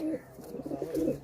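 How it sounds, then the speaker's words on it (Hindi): Soft, low pigeon cooing repeats in a few throaty bursts, close by, with no talking. "और आपने हमेशा सुना होगा कि जो कबूतर है,"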